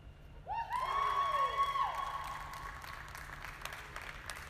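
An arena audience applauds the champions at a New Holland Arena show, the clapping rising quickly after a brief whoop and then holding as a soft, steady patter.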